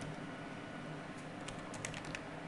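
Quiet, soft clicking of keys being pressed on a computer keyboard, a short irregular burst near the end.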